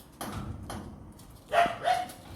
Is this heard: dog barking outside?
yes